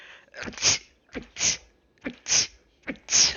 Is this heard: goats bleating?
no